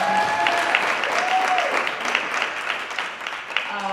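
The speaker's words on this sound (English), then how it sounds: "So let's give her a round of applause." An audience in a room claps for a woman being honoured at a foundation event, sustained even applause with faint voices mixed in underneath.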